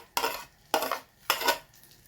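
Leftover food scraped and tipped onto a pan while making cheesy sausage rolls, three quick separate clattering bursts of metal and utensil knocks, close and moderately loud, with no talking.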